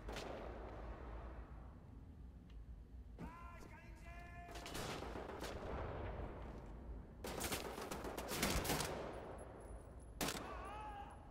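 Gunfire in Wolfenstein: The New Order, several sharp shots and rattling bursts spread over a stretch of low game ambience, fairly faint and distant-sounding.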